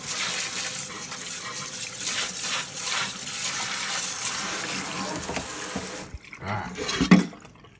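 Tap water runs into a kitchen sink while pho ingredients are rinsed, a steady close splashing gush that cuts off near the end, followed by a few brief knocks and clatters.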